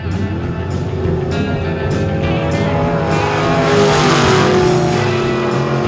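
A 1953 Henry J economy car engine revving loudly and close, a sustained rough growl that rises and falls in pitch with steady power throughout.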